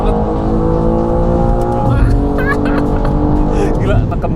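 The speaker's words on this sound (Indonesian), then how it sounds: "Kita coba yuk sekarang dari gigi 3 deh. Gigi 3 full power." Tuned BMW M2 with valvetronic exhaust, water-methanol injection and JB4 tune pulling at full power in third gear, a loud, steady engine roar that holds throughout while a person talks over it.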